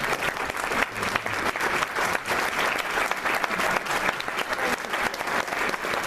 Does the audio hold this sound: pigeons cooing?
no